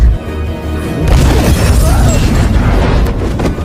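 A homemade fire bullet ignites the alcohol a man is holding, setting off a loud, dense blast that roars and crackles steadily for several seconds.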